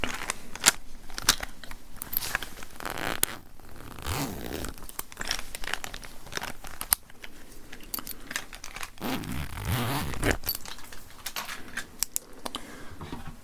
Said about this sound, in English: let me grab my pen very quickly. I just want to write down some notes